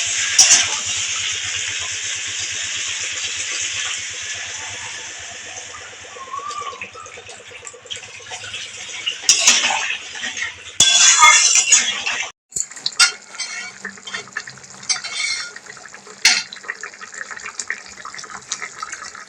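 Cauliflower and potato stir-fried in a pan in a home kitchen: a steady sizzle with scraping and clatter from stirring, a brief pause, then irregular louder scrapes and knocks against the pan.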